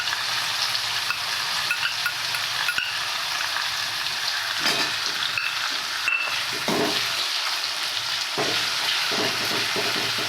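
Garlic and coriander paste fries in hot oil for a tempering, a steady close hiss and crackle with occasional stirring scrapes and clinks, heard alone.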